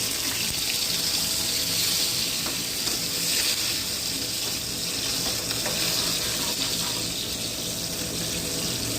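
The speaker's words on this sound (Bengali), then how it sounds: "ভালো করে লাল লাল করে ভেজে নেব" Onion, garlic and dried chili frying in hot oil with panch phoron and cumin, a steady close sizzle running continuously without pause and no voices.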